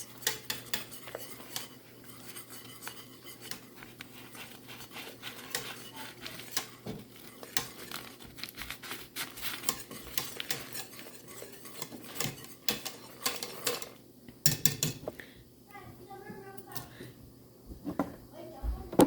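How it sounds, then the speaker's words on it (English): Pectin being stirred into redbud jelly in a pot, with a steady run of spoon scraping and clinking against the pot, close and soft, with a low hum underneath. "I'm gonna mix this in slowly and stir the entire time so that it doesn't have any clumps"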